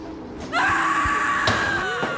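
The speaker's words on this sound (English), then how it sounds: "And then we heard screaming." A loud, sustained high-pitched scream rising and wavering for nearly two seconds, close and piercing, with a couple of dull knocks underneath.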